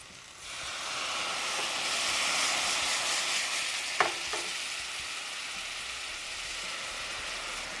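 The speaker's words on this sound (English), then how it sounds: "I'm gonna use that to deglaze my pan" Chardonnay white wine hits a hot pan to deglaze it, letting off a steady loud sizzle and hiss that holds for several seconds, with a brief clink of a utensil partway through.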